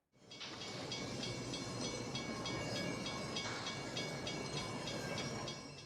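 A steam train from Back to the Future Part III rumbles steadily with a dense hiss and a regular metallic clickety-clack, fading in quickly and holding at an even level.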